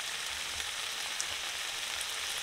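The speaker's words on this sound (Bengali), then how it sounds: "চিকেনটা থেকে তেল ছেড়ে দিচ্ছে।" Chicken sizzling in the oil it releases in a pan: a constant dense crackle and hiss, close and even, with occasional small pops and faint stirring, no voices.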